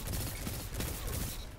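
Rapid automatic gunfire from a high-rate-of-fire weapon in the video game Destiny 2 sounds as a fast, quiet stream of crackling shots with no pauses.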